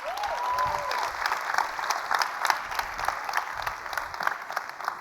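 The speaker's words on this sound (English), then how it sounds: "Let's clap it up." Keynote audience in Dubai breaking into steady, dense applause, a wash of many hands clapping at a moderate distance with a brief voice near the start.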